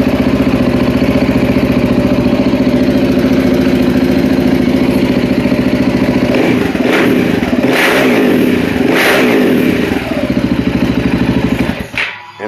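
KTM 690 single-cylinder motorcycle with an FMF 4.1 exhaust and no baffle, idling loud and close with a rough, throbbing note, blipped through several sharp revs before settling and cutting off.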